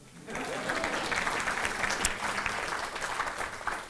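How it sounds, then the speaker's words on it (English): A crowd at a business growth celebration event breaks into applause, a moderate, fairly distant burst of clapping that rises quickly and holds steady for a few seconds. "That's where y'all clap."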